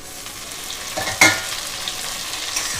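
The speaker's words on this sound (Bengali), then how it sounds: "এবার আমি কেটে রাখা টমেটো দিয়ে দেবো" Chopped tomatoes drop into a pan of lightly browned onions for a pangas fish curry, setting off a sudden sharp sizzle that settles into a steady, softer frying hiss nearby.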